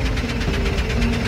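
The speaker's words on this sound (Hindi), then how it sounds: "सभी लोग ट्रैक्टर से बाबा के घर की तरफ जाने लगते" A tractor engine runs steadily with a loud, close, rhythmic chugging throb and heavy low rumble, no voices over it.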